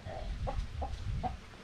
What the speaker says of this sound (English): And this is their rooster.